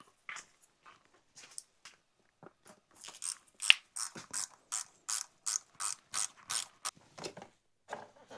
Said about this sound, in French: Ça, c'est une des meilleures inventions. La clé à rocher.